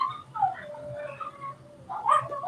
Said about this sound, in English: I have howling dogs in the background